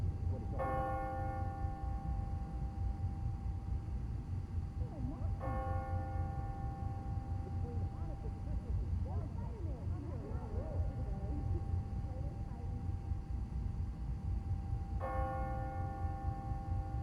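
A deep church bell in a video game tolls the hour a few times at a slow pace, each strike ringing out and fading over a low, steady background rumble.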